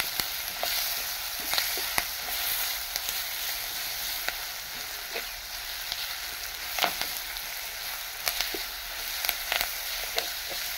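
Drumstick leaves being sautéed in a pan, a soft, steady sizzle with frequent light scrapes and taps of a spoon stirring them.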